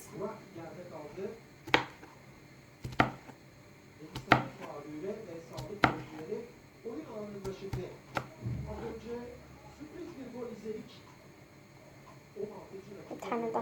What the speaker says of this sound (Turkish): şimdi çilekler küçük olduğu için fazla doğrayacağız